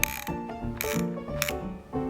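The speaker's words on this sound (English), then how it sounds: "The Fun Saver makes this neat clicking when winding." A Kodak Fun Saver disposable film camera is wound, giving a series of close, crisp ratcheting clicks in quick irregular bursts with brief pauses between, alone and fairly quiet.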